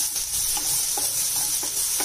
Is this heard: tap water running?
no